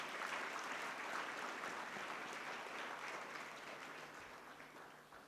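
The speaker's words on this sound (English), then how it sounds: "Ladies and gentlemen, can we have a round of applause as well?" An audience at a school or institutional ceremony applauds, a dense steady patter of clapping from a sizable crowd, fairly distant and tapering slightly toward the end.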